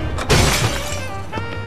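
A glass ceiling shatters in the Batman: The Brave and the Bold video game, a loud crash of breaking glass followed by tinkling shards falling and a second smaller burst near the end.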